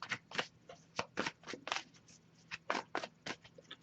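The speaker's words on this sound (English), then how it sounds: "I'll give it a few more shuffles" Cards being shuffled up close: a string of crisp riffling bursts with short pauses between, quiet and irregular in rhythm.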